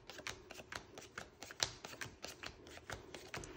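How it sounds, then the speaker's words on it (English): A deck of Piepmatz card game cards is shuffled by hand, producing quiet, rapid riffling clicks and flutters in an uneven rhythm, close and alone. "We are going to shuffle them all up"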